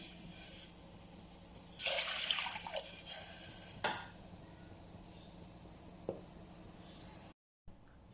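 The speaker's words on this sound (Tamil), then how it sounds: "இப்போது குக்கரில் தண்ணி ஊற்றிக்கலாம்." Water splashes and pours in short bursts into a pressure cooker, with a brief rushing stream and a few drips and clinks, fairly close and quiet, no voices.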